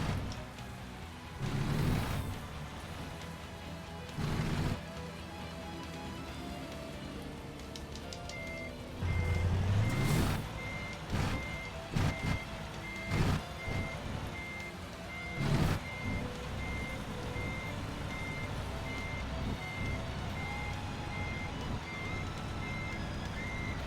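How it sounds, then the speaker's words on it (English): Reversing beeps from a truck backing up in the American Truck Simulator game, a steady repeating electronic tone over engine rumble and several louder thumps and bursts. "I'm going to have to actually back up to those trucks"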